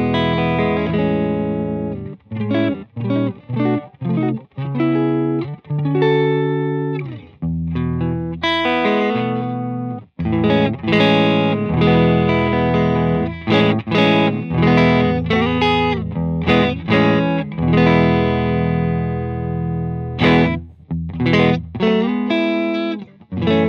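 An electric guitar plays loud chords and single notes clean through a Benson Amps Monarch Reverb amplifier via a budget Amazon cable, with rhythmic breaks and a ringing, slightly effected tone.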